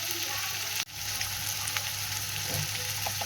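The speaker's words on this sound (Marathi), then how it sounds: "आपण गॅसची फ्लेम स्लो करूया आणि या टमाटरला छानपैकी असं भाजून घेऊयात स्लो गॅसवर" Tomatoes roasting in a pan over a low gas flame give a steady, close sizzle with small crackles and one brief dropout, and nobody speaks.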